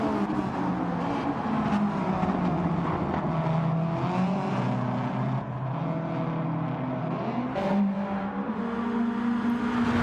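Race cars at Spa roll into the pit lane, their engines a steady, loud, dense drone with shifting pitch as several cars pass close by, continuous for the whole stretch.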